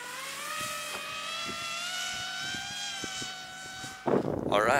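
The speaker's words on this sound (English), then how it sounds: "it's bright and early and Danny's already whipping up the FPV" Small FPV drone buzzing steadily with a rising whine from its propellers, fairly close, outdoors on a bright morning in the Swiss Alps, before louder bursts of noise near the end.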